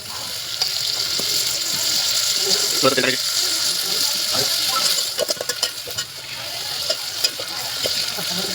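Onion fries in a cooking pot with a steady close sizzle and crackle, interrupted by scraping stirs and clinks of a utensil, plus a scattering of sharper pops later on.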